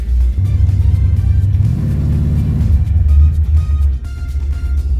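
A car engine rumbles close by and rises in pitch as it accelerates, then eases off and settles back, with no talking.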